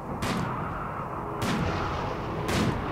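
Three spaced, booming gunshots from a Rimworld colony shooting at a lizard, each a sharp blast with a short decaying tail over steady game background noise.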